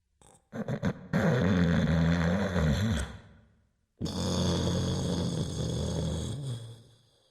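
Two long, loud rasping snores from a giant in a telling of Jack and the Beanstalk, each a drawn-out rumbling breath, separated by a brief silent pause; sounds like an exaggerated, voiced imitation of snoring.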